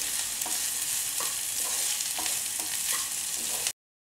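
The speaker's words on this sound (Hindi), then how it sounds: "इसमें हम जिंजर गार्लिक भी डाल देते हैं और इसको हम फ्राई करेंगे जब तक ये गोल्डन ब्राउन हो जाए" Ginger and garlic fry in a pan with a steady, loud sizzle, broken by repeated light scrapes of stirring, before the sound cuts off abruptly near the end.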